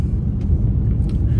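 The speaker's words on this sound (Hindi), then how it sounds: "तो अभी फिफ्थ गियर पे ही गाड़ी चला रहे हैं" A Maruti Alto 800 car cruising in fifth gear on a highway, heard from inside as a steady, loud low engine and road rumble with no voices.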